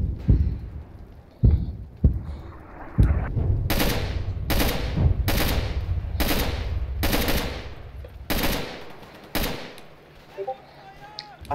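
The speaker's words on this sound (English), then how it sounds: "I can hear it shooting at us." Heavy gunfire in the WWII shooter Darkest Hour, with scattered single shots at first and then rapid, loud machine-gun bursts one after another, with a voice faintly present underneath.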